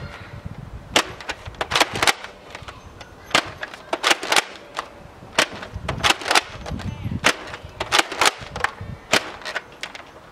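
A Nerf Longshot blaster firing foam darts at a range test, producing a series of sharp close snapping shots and mechanical clacks of priming, repeated in quick irregular bursts with no one talking.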